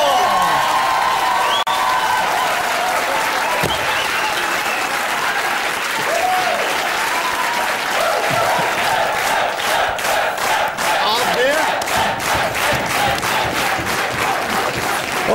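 A TV studio audience gives a long, loud burst of applause, dense clapping mixed with cheers and a few whoops, sustained without a break.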